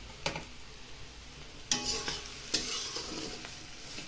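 Roasted semolina being stirred in a pan with cooked vegetables and turmeric for upma, a soft frying sizzle broken by a few scraping spoon strokes against the pan.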